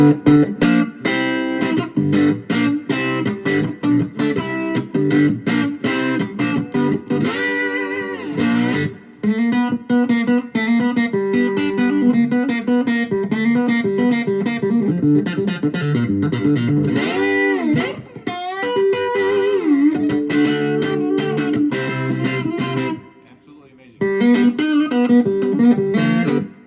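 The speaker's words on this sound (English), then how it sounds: "That's the mid distortion channel." An electric guitar plays through a Roland Cube 10GX amp on its mid distortion channel, with loud, sustained overdriven chords and note runs throughout and a brief dip near the end; a voice speaks briefly.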